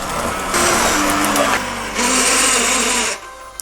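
Cream cheese, sugar and a dash of vanilla being mixed for a cookie filling with an electric mixer, whose motor whirs in two sustained bursts with a short dip between, loud and close, then stops abruptly.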